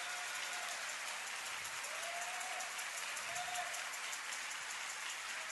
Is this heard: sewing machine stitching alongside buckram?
no